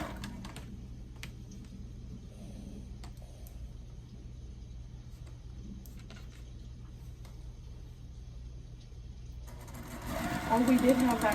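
A sewing machine stitches quilt pieces for a tulip row, running in a steady close mechanical whir, with someone talking quietly over it.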